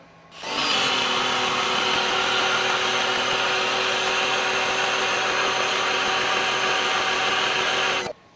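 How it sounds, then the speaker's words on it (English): An EGO 56V battery-powered pressure washer rated 3200 PSI runs in turbo mode, a loud, steady whining spray that starts abruptly, holds constant for about seven seconds, then cuts off sharply. "And now we're going to go into turbo mode."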